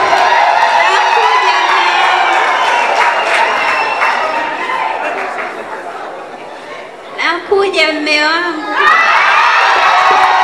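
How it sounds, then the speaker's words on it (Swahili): Wedding guests cheer and whoop in a lively crowd welcoming a bride, high shrill cries rising over busy chatter, with a brief quieter spell and a voice speaking before the cheering swells again. "Makofi na vigelegele."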